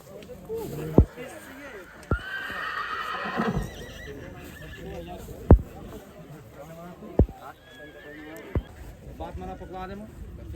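Draft horses whinny and snort amid sharp clattering thumps at a horse show and competition, with people talking over the scene nearby.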